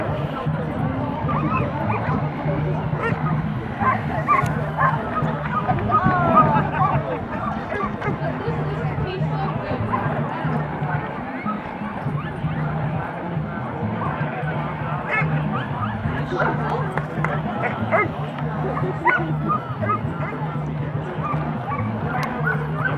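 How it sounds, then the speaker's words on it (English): Several dogs bark and yip continuously at a lure chasing event on a large open field, with excited whimpers mixed in, while people chatter nearby in a steady crowd murmur. "You know when they're barking, they're having a good time."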